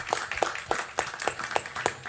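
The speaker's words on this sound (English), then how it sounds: "Please give a round of applause to Patrick." A live audience at a book club session at a festival forum claps steadily, each clap crisp and evenly spaced, a few hands only and moderately close.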